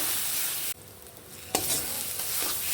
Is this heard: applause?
no